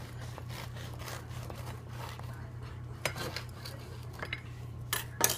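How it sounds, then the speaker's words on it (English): A knife slices through a loaf of machine-baked white bread in quiet, soft sawing strokes, with a few sharper scrapes and taps near the end over a low steady hum. "I'll just cut a slice just to show you how nice this bread just cuts"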